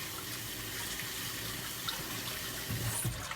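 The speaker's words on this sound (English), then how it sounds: "Now I'm going to rinse it out with warm water, get rid of everything" A kitchen tap runs warm water over a cloth being rinsed, a steady broadband hiss of flowing water with small splashy changes near the end, alone without talk.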